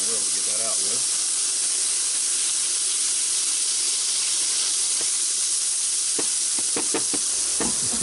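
Butter sizzles against sous vide pork chops on a Lodge Sportsman's grill, a steady loud hiss throughout with a few sharp crackles and pops near the end.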